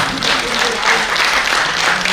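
An audience at a Hindi comic poetry performance claps in a burst of steady, loud applause, a dense crackle of hands that fills the clip without interruption.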